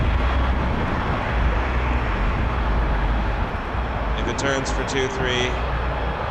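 Airplane engines rumble at Toronto Pearson airport, a broad steady roar held throughout while someone talks over it and a short radio-like tonal burst appears near the end.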